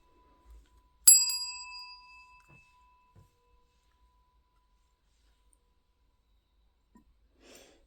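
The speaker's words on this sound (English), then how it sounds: "let's ring the bell again" A bell rung for a cleansing ritual gives one clear bright strike that rings out and slowly decays over about a second, followed by quiet with faint small handling noises.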